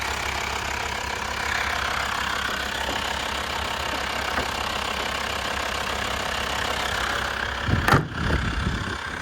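A Volkswagen Transporter TDI van's diesel engine idles steadily and evenly at close range, a low, constant rumble broken briefly by a dull thump near the end.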